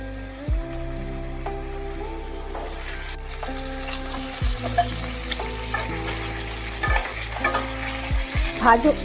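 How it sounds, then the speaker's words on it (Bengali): A steady sizzle of potatoes frying in hot mustard oil, with scraping stirs and a low background hum running underneath throughout. "ধুয়ে জল ঝরিয়ে রাখা আলুগুলো তেল গরম হলে তেলের মধ্যে দিয়ে দিতে হবে"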